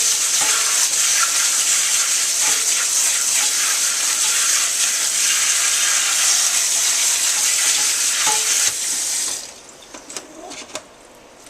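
Running water from a tap rinses fresh stevia leaves for about nine seconds, a steady loud splashing hiss that then cuts off, leaving a few faint handling clicks.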